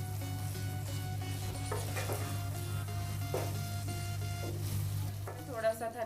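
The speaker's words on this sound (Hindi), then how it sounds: "अभी इसको थोड़ा सा इसको अच्छे से मिक्स कर लेंगे हम ये मसालों के साथ।" Bread tadka sizzles in a pan as it is stirred with spices, a steady frying hiss under a low hum with several scraping strokes of a spoon.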